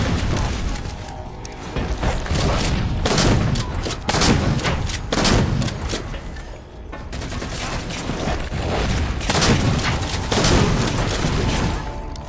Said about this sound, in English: Shotguns work like a charm.